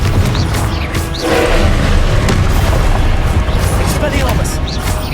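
Confringo blasting spells explode in Hogwarts Legacy, a dense, loud rumble of booms and bursts layered over continuous game music and combat noise with no gaps.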